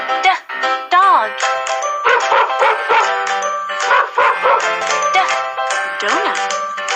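A cartoon dog barks and yips in a kids' educational alphabet app, with playful bow-wow sounds mixed over bright music and voices throughout.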